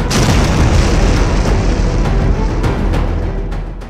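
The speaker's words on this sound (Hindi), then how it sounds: "धमाका इतना जोरदार कि गूंज अंकारा से लेकर वॉशिंगटन तक सुनाई देती है।" A loud suicide bomb explosion in Turkey that opens abruptly and rolls on as a heavy, crackling roar for several seconds before easing slightly.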